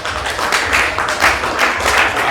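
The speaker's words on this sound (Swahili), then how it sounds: "Makofi kwao wakisimama." Steady, dense applause from a crowd at a nursing students' dinner in a hotel hall, greeting student leaders as they stand, sustained and loud throughout.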